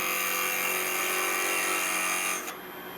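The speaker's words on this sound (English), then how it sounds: "Parting tool, we'll do this whilst we're here." A parting tool cuts into a turning wooden box lid on a lathe, giving a steady, loud whirring scrape that holds for over two seconds, then drops away sharply to a quieter motor hum as the cut stops.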